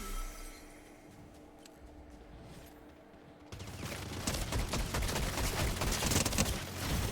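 Shotgun blasts in the video game Fortnite, a dense, loud burst of gunfire and clinking debris that kicks in halfway through after a quieter stretch of game ambience.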